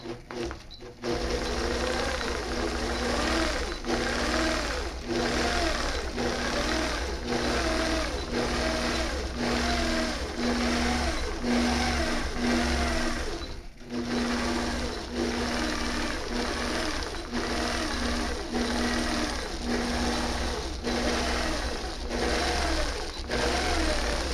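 A longarm quilting machine runs steadily in stitch-regulated mode, a continuous mechanical whir with a fast rhythmic stitching pulse that rises and falls slightly as it moves, with one brief dip midway.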